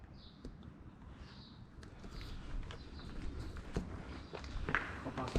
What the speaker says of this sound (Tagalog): May naglalakad sa taas.